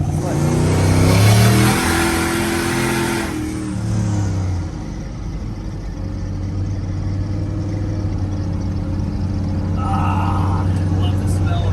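A turbocharged LS-swapped square body truck engine revs hard and loud, then drops to a steady, throbbing rumble that carries on close by.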